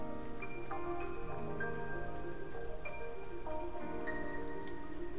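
Rain in the video game Blue Reflection, a steady, even patter that runs continuously beneath layered game music, with no voices.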